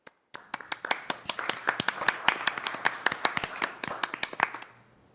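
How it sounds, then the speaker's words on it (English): Sparse applause from a small group at a school board meeting: distinct, individual hand claps in an uneven rhythm for about four seconds, then stopping abruptly. "I'd like to give a round of applause to Dr. Denabraga"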